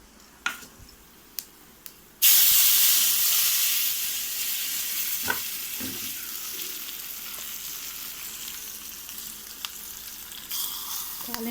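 Urad dal and curry leaves hit hot oil for a tempering for coconut chutney. A few light clinks come first, then a sudden loud sizzle bursts out and slowly eases into a steady frying hiss.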